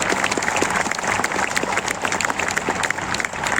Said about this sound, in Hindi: इनके लिए जरा एक बार जोरदार तालियां बजाइए।